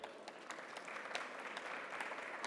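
Steady applause from a conference audience at the BATIMAT construction trade show, a dense patter of many hands clapping at a fairly even level without letting up.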